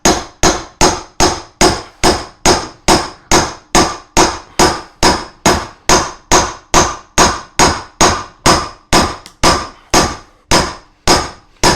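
A hammer strikes the steel back of an axe driven into willow to split it, ringing metallic blows repeating at a steady pace of about two per second, loud and close, each one decaying quickly, with no voices.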